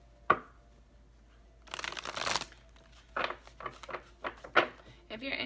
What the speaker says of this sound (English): We're going to have one more shuffle.